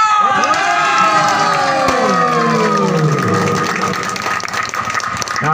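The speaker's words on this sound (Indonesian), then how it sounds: "Tepuk tangan yang meriah." Crowd cheering and shouting with some clapping at an outdoor kite contest prize-giving in a village, loud and dense, voices rising and overlapping with children's shouts throughout.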